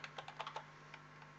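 Keystrokes on a computer keyboard while typing in Microsoft Word: a quick run of six or seven light clicks, then a couple of spaced taps, soft and close.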